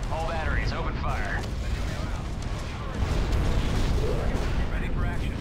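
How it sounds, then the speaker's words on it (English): Cruiser batteries open fire during a sci-fi strategy video game battle, a dense continuous roar of booming cannon blasts and explosions with occasional whining shots, while game voices speak over the din. "All batteries, open fire."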